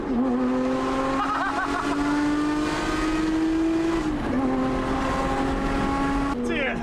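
Lotus Emira V6 fitted with a full Valvetronic Designs titanium exhaust, blaring loud and close with a sustained high, rising engine howl that dips briefly around the gear changes, over a constant roar.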